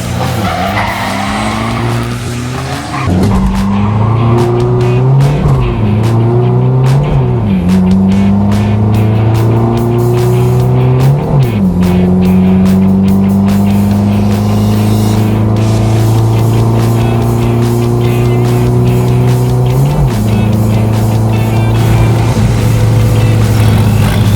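Turbocharged Toyota Revo and Isuzu D-Max diesel pickups drag racing, loud engines roaring through repeated rising revs with sharp gear-shift dips, plus tire skid and squeal, continuous and close for the whole stretch.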